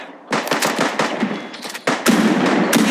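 Video game battle gunfire comes as loud, rapid automatic bursts, several rattling volleys separated by short gaps, with no voices over them.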